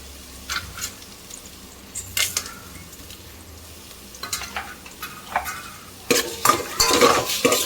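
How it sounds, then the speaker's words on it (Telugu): Vegetables for a biryani frying in a hot pan, a low sizzle broken by repeated louder bursts of stirring and scraping that grow busier toward the end, close by with no speech. "ఇట్లా ఫ్రై అయ్యేటట్టు చూసుకోవాలి"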